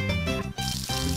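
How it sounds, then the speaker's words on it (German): A watering can pours over crops in Harvest Moon: A Wonderful Life, a short splashing game effect heard over steady tonal background music. "Da nehmen wir eine Gießkanne"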